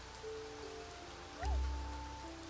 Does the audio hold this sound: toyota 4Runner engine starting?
no